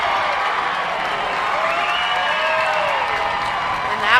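Softball crowd at Veterans Memorial Park cheering after a ball-four walk at the CAA championship, Hofstra against James Madison, a steady roar of cheers and whoops spreading across the stands, with a swell near the end.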